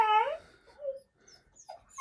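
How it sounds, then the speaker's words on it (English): A dog whimpering for attention indoors, a close high whine at the start followed by a few softer whimpers and yips in a quiet room. "The dog wants attention."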